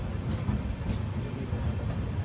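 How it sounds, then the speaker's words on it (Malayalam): The Rameswaram–Mangaluru Express pulling into Palani railway station, a steady low rumble of wheels and carriages rolling on the track, moderately close and without talk. "8:19 ട്രെയിൻ ഇതാ പഴനിയിലേക്ക് എത്തുകയാണ്"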